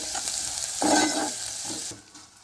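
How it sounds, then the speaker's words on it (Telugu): Potato pieces fry with onions and dried red chilies in hot oil, a steady close sizzle with a brief stir and scrape in the middle before the hiss fades. "ఆలుగడ్డ ముక్కలు కూడా వేసేసాను, ఇవి మగ్గుతున్నాయి."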